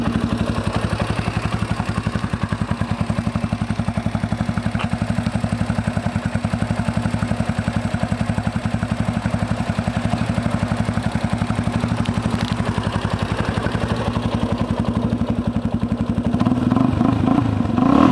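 A 2013 Yamaha Raptor 350 ATV idles close by with a fast, even single-cylinder chug and mechanical clatter, steady for most of the stretch before the engine picks up slightly near the end.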